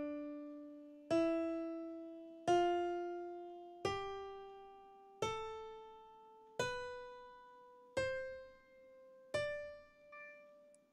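Piano notes stepping upward one at a time on the white keys starting from D, in an even, slow rhythm, each struck clearly and left to ring before the next, eight notes in all.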